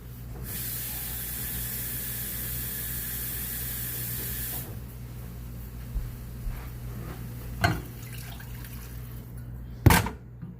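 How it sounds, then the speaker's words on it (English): Water poured from a measuring cup into a cooking pot already holding rice, a steady, close rushing hiss for several seconds, then a few sharp knocks and clinks as the cup is set down. "And then we're going to get 2 cups of water."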